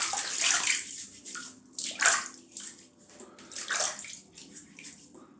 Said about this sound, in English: I'm going to have a bit of a rinse